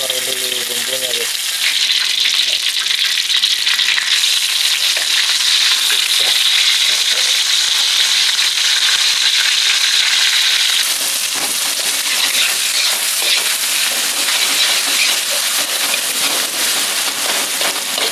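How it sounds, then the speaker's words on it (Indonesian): Spice paste frying in a pan over a campfire in the forest, a loud continuous sizzle with stirring scrapes, intensifying after the paste hits the oil and easing later. "Kita goreng dulu bumbunya deh."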